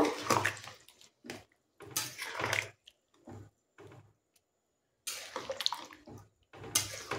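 Hot water pours into a pot of cooking mutton curry in several splashing, gushing bursts, close and fairly quiet, separated by short silences.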